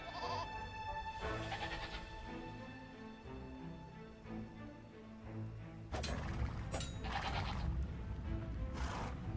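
Goats bleat in the strategy video game Age of Empires II: Definitive Edition, several quavering calls over game sound effects and music, followed by busier clattering action at moderate level.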